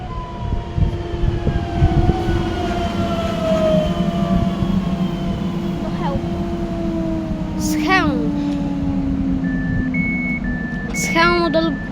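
Polish EN 98 007 electric train passing near the listener with a loud sustained rumble and tonal motor whine, joined by high squealing and a few short horn-like tones toward the end.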